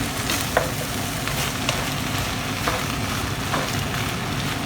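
Spring onions sizzle in a hot pan for chow mein, a steady loud frying hiss with a few stirring scrapes and spatula taps.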